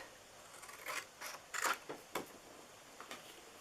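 Paper being cut out with scissors for a homemade Easter treat box, several quiet separate snips in an uneven rhythm, close and alone against a faint background hiss.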